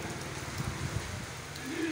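A brief burst of heavy downpour in Allahabad, a close, even wash of falling water with a faint voice underneath.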